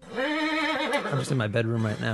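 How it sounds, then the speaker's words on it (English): Horses whinnying outside in a house yard, faint neighs under continuous close speech from a person indoors in a bedroom. "What's with all the horses outside?"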